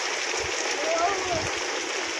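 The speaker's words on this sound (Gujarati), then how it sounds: "જોરદાર પવન સાથે વરસાદ છે." Heavy rain driven by strong wind pours down at night on a village, making a dense, steady wash of water noise close by, like running water. A voice can be heard faintly under it.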